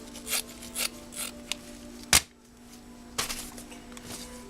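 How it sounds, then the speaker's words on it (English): A piece of carbon fiber being cut to shape during fairing repairs on a Bimota motorcycle, with faint intermittent rasping and scraping strokes and one sharp snap partway through, no voices. "Now we got to cut a piece of carbon fiber to fit in there."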